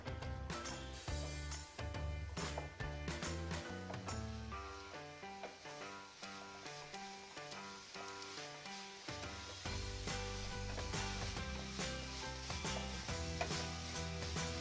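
Masala paste for kheema fries and roasts in a pan, a quiet steady sizzle with occasional stirring scrapes and no voices.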